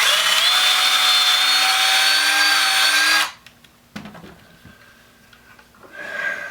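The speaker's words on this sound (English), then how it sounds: "Drill the second hole." A power drill runs loudly and continuously for around three seconds before cutting off, leaving a few faint taps and shuffling sounds.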